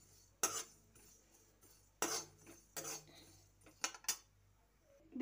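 A metal spoon scrapes and clinks against a pan while cumin, coriander and fennel seeds dry-roast, giving a few sharp, separate strokes close by with quiet gaps between them.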